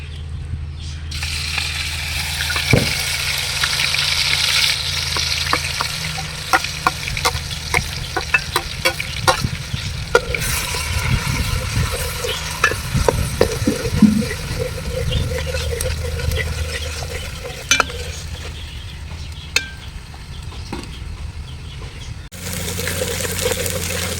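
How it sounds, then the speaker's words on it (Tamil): Ground onion paste for a beef biryani fries noisily in a large pot, a dense steady sizzle with bursts of loud spattering and rapid metal scraping as it is stirred, close up, before a brief drop near the end. "வெங்காயம் நல்லா ஃப்ரை ஆகிடுச்சு அரைச்ச வெங்காயம்"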